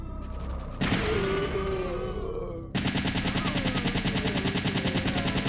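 Rapid automatic gunfire from a gun in Resident Evil 3: Nemesis, loud and close, with a short burst and an echoing tail followed by a steady, rhythmic stream of shots to the end.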